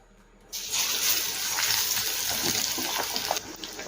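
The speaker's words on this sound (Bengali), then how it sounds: "গরম তেলের মধ্যে ব্রেডটা ছেড়ে দেবো।" A batter-dipped potato and paneer bread pakora dropped into hot oil, bursting into a loud steady sizzling hiss after a brief quiet start, with light crackling throughout.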